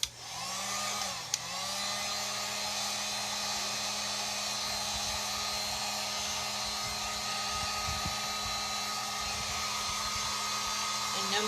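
Heat gun blowing steadily and close by while warming a Mod Podge–coated autumn harvest home decor craft piece, a continuous airy whoosh with a brief bump near the start and no talking.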